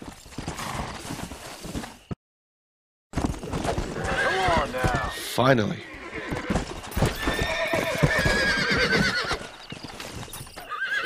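A horse in the video game Red Dead Redemption whinnies repeatedly and gallops with rhythmic clip-clop hoofbeats, close and loud. The sound cuts to silence for a second partway through, and someone speaks briefly over it.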